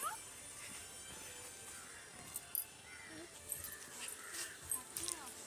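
A dog in a Kerala village yips and whimpers in short, faint bursts from a distance, against a quiet outdoor background.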